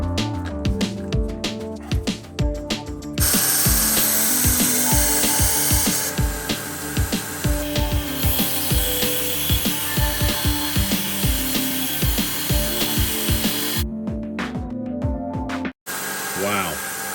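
A Vonhaus 1x30 belt sander fitted with a 240 grit belt runs loudly and continuously, its whirring drone broken by rhythmic scraping pulses as work is pressed to the belt, stopping briefly near the end.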